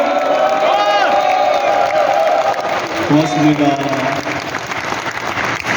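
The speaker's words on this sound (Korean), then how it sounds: "동의하시면 카드로 박수 한번 안내해주세요." Audience applause and cheering at a book-launch talk by a provincial governor in South Chungcheong, a dense steady crowd clapping throughout with a brief spoken thank-you and voices over it.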